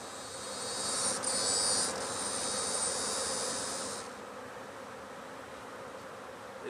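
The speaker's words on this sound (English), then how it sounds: "These bees, they'll fly around for a minute and then they'll fly back to the entrances" Dense, steady buzzing from many honeybees around hives, loud and close at first, then easing to a softer continuous drone.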